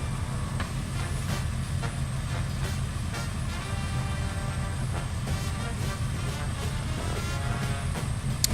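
A Cessna 172 piston engine in Microsoft Flight Simulator 2024 holds a steady, loud cruising drone, a constant low rumble with no breaks and no talking over it.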